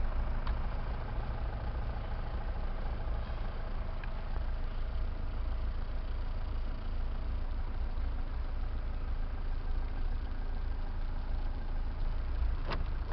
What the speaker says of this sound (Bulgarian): Ето как пали и работи.